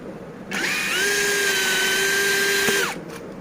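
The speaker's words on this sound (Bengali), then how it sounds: "একটু দেখিয়ে দেয় কিভাবে ছিদ্র করা হয়" An electric drill whirs up, holds a steady high-pitched whine for a couple of seconds while boring a hole in furniture work, then winds down and stops.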